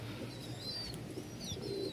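Rajshahi Giribaz pigeons cooing faintly at a bird farm, soft low coos and a few light chirps over quiet background noise, with no talking.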